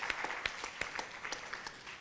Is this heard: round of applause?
yes